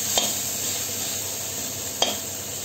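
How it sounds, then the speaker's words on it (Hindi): Garlic cloves fry with onions in a pan, a soft steady sizzle with two sharp clinks of a spoon against the pan, quiet and close. "लहसुन की 5-6 कलियाँ डाल दी हैं, इनको भी मैं प्याज के साथ फ्राई कर लूंगी।"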